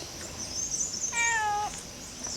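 A cat at a hillside resort in Dhulikhel, Nepal, gives a single clear, close meow of about half a second over faint outdoor hiss.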